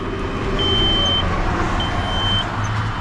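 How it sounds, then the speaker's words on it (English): A car's key-on warning buzzer sounds with the key in the on position and the car in neutral, a steady high electronic tone in two long beeps over a low, constant background hum. "The buzzer's going off, indicating that it should."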